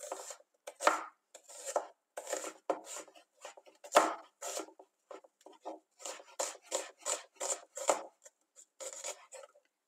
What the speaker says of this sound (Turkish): Hemen şimdi soğanlarımızı, kabuklarını soyup güzelce yıkadıktan sonra soğanlarımızı piyazlık olarak doğruyoruz